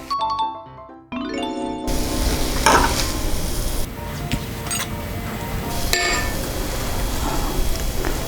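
Potatoes and onion stir-fry in a pan for a potato-and-cheese pan pizza, giving a steady sizzle with scraping and stirring clatter throughout after a short musical opening.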